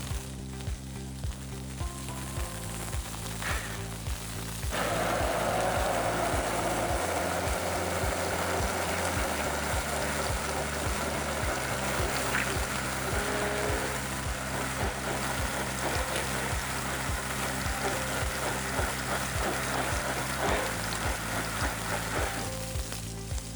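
Continuous sizzling of a burger in a hot pan, a steady crackle with a low hum and occasional clunks underneath, fairly close.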